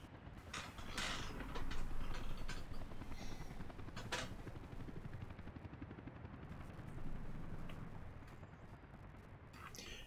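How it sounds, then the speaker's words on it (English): Cargo helicopters fly supply runs in the Soviet republic city-builder game Workers & Resources: Soviet Republic, heard as a faint, steady mechanical whir and rumble mixed with creaking, clanking machinery, with no talk. "we've got chopper operations moving things along here"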